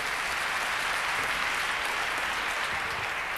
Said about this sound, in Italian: Elle est aussi, bien entendu, très applaudie puisque Chiasso se trouve à la frontière italienne.